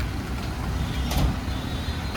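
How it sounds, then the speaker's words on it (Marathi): Road traffic on the rainy route to Bhushi Dam in Lonavala, a low steady rumble of buses and trucks idling and passing nearby, with a brief mechanical hiss midway. "बुशी डॅमला जाणाऱ्या या मार्गावर रविवारी हे ट्रॅफिक असतेच"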